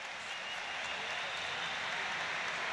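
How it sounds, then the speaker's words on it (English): A stadium crowd at a Portugal v Spain World Cup Round of 16 match applauds as Portugal's Nuno Mendes walks off as a substitute, a steady distant wash of clapping with no break. "Sporting round of applause as a rather disconsolate Nuno Mendes makes his way in front of the stand"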